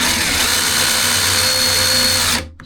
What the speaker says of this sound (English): so now the countersink is just starting to touch the plywood